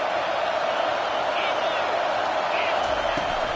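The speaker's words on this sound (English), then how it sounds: "This crowd knows when to bring it." Stadium crowd noise in an NCAA college football video game, a steady broadband roar of cheering fans that holds at an even level throughout, with no single voice standing out.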